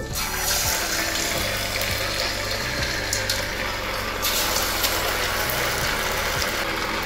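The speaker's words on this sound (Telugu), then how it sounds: "నూనె వేడయిందండి. ఇప్పుడు ఒక్కొక్కటిగా మనం వేసేసుకుందాము." Leftover rice pakodi drop one by one into hot oil, giving a dense, continuous sizzle and bubbling that stays loud and steady throughout, with no voices.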